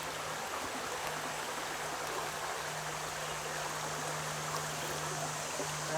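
A river at Khan Preserve in New Milford, Connecticut, rushes in a steady broadband wash of flowing water that stays even and unbroken throughout.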